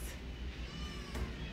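A cat at an adoption shelter lets out a single drawn-out meow for attention, close by and fairly soft, with a low hum in the room.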